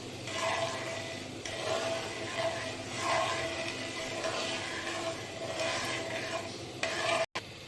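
Fruit custard being stirred and mixed in a pot, a steady scraping and swishing that carries on without a break, fairly close and even in level, with one brief knock near the end.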